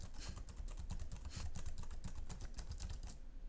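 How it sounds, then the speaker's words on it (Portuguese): Quick, continuous typing on a computer keyboard, entering text into a Corel Draw text box, with dense rapid key clicks heard close up and no talking. "E aí eu posso digitar o texto aqui dentro."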